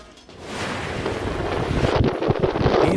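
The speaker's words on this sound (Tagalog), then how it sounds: "Ramdam din ng malakas na hangin sa ilang lugar sa Pasukin, Ilocos Norte dahil sa Bagyong Marce." Strong gusting wind from Typhoon Marce in Pasuquin, Ilocos Norte, a loud continuous roar buffeting the microphone that builds within the first half second and keeps rumbling, with no talk.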